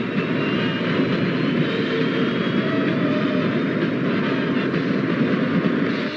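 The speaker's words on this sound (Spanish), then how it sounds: "Conseguimos el despegue." A spacecraft blasts off with a continuous, loud, broadband rocket roar that holds steady throughout without pause.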